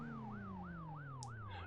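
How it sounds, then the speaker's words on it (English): A police siren wails outside, its rising and falling tone repeating about every third of a second. It sounds muffled and fairly distant, with a steady engine-like drone underneath and a brief hiss partway through. "Because I can hear sirens."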